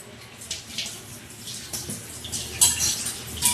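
Water splashing and running while an iron kadai pan is rinsed in a kitchen, with irregular close splashes and light metallic scrapes and no talk.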